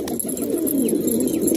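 Fancy pigeons, including a brown one and a white one, coo steadily and close up while feeding in a pigeon setup, with a continuous low murmur of overlapping calls.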